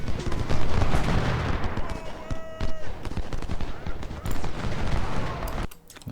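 Dense, continuous volleys of musket and cannon fire in the Ultimate General: Civil War strategy game, a loud, crackling battle din with no letup, occasional sharper reports rising above it.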